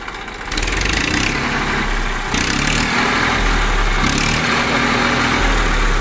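A Massey Ferguson 1035 DI diesel tractor engine runs loud and close, surging in a few throttle revs and settling back to a heavy, steady drone between them.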